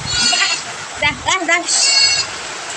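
Goats bleat a few times at close range, short wavering calls over a background of steady rain.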